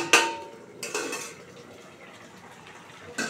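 A metal lid clanks sharply as it lifts off a cooking pot of simmering potato and taro curry, followed by softer clinks and a faint bubbling hiss.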